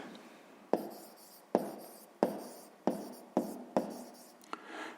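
Pen writing on paper while noting down the answer to a sixth-grade math exercise: a series of about six short, sharp strokes and taps spaced roughly half a second apart, close and clear, with no talking.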